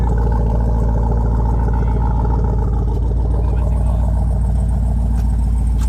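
A car with an aftermarket exhaust idles close by, a loud, deep, steady rumble with a throbbing low pulse and no talk over it.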